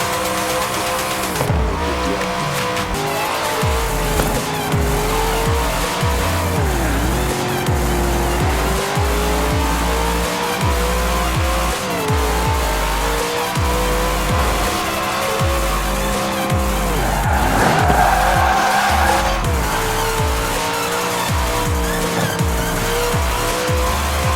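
A car races in Forza Horizon 4 with automatic gearing, its engine revving up and down between shifts and its tires squealing through corners, loud and continuous with no talk.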